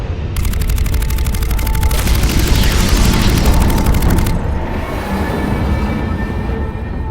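Weapons firing in the sci-fi video game Mass Effect 3: a loud, rapid mechanical barrage of repeated shots over a heavy rumbling drone, stopping abruptly and leaving the low rumble alone.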